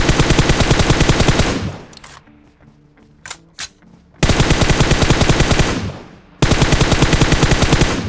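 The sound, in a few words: AKM gunfire in PUBG Mobile video game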